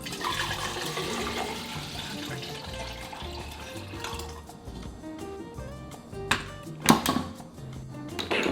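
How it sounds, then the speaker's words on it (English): A Nespresso Vertuo Plus water tank is washed and filled at a kitchen tap, with running water splashing and gurgling, then fading before a few short louder bursts of flow near the end. "I'm going to wash my water tank one last time, and I'm going to put some fresh water in here"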